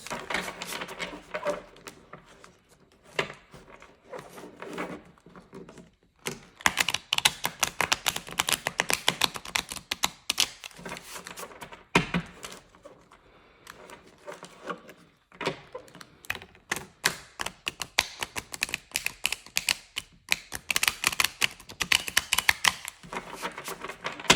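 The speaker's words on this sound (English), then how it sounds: "I have some new beautiful decks that need to be shuffled" Tarot cards riffle and flutter in rapid bursts of crisp, papery clicks, pausing briefly between rounds of shuffling, close up.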